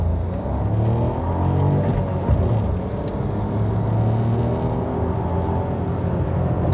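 A 2019 Fiat Mobi Drive with a 1.0 Firefly engine accelerates, engine tone rising and falling through gears in a steady in-cabin drone with rising harmonic sweeps, no talk over it.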